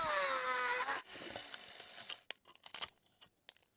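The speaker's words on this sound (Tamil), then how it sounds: "இந்த ரவுண்டை வந்து இப்போ கட் பண்ணி எடுத்துருவோம்" Metal cut by hand to free a small round piece for a modified bike build: a loud grinding whine at first, then a series of short, sharp snips and scrapes separated by silence.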